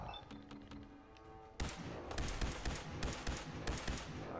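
Rifle gunfire in the video game Fallout 4: after a quieter opening, a rapid string of sharp, loud shots with thudding impacts fires in an uneven burst for a few seconds, with no talking.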